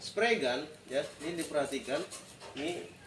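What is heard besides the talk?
No everyday noise stands out behind the speech.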